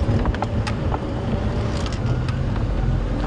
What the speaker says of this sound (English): Also put the car into low range so the engine makes a lot less noise and we can really just inch up there.